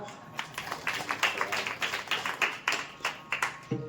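An audience at a devotional gathering claps together in a steady burst of rhythmic applause, each clap distinct and fairly close, lasting a few seconds.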